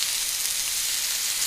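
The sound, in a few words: steak sizzling in a hot dry skillet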